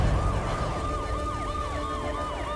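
A film scene carries emergency sirens: a loud, close wail rises and falls in quick repeated sweeps over a dense rumbling background, ending abruptly.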